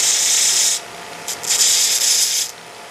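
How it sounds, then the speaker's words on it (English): Close, harsh abrasive rubbing in two bursts with a short pause between, cleaning up raw sawn edges on patch cord parts. "That's just cleaning up the raw edges from the sawing."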